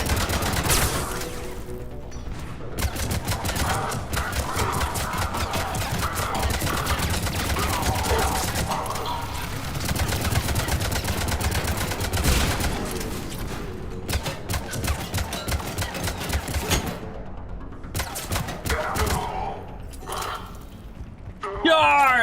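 Armor-piercing gunfire in the Mass Effect video game, rapid bursts and fusillades of shots in irregular clusters with brief pauses, dense and loud, heard alongside speech.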